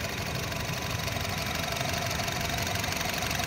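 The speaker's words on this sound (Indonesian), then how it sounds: "Suara mesinnya silakan teman-teman nilai sendiri" A 2014 Honda Mobilio RS with a manual gearbox idles steadily, its engine giving a close, even, slightly rattly hum with no speech over it.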